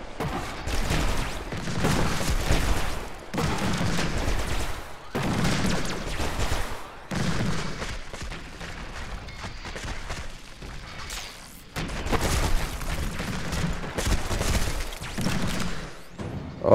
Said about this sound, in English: I'm literally getting killed by cannon turrets at this stage.